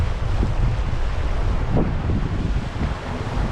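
Strong south-east wind roars over the sea aboard a sailboat off the Mediterranean coast, a steady loud rush with buffeting gusts and the wash of waves against the hull, with no voices.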